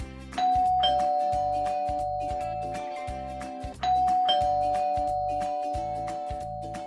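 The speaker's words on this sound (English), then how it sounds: "Doorbell." A doorbell rings twice, each a clear ding-dong chime that rings out and fades, over soft rhythmic music.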